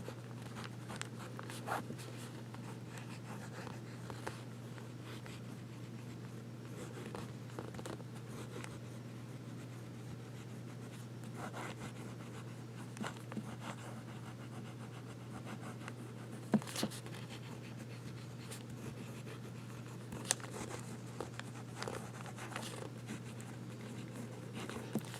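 A vintage Sheaffer School fountain pen with a medium nib scratches faintly across paper, forming small strokes and loops in soft, intermittent scrapes over a steady low hum.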